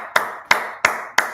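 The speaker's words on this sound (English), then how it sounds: "All right, clap it up." Congregation clapping at a Sabbath service, four loud, evenly spaced claps close together in a slow, steady rhythm, with no voices over them.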